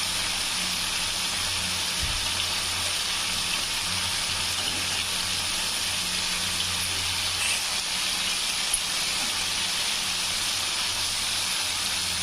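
Chicken tikka masala pieces fry in hot oil, giving a steady, fairly quiet sizzling hiss that continues without a break.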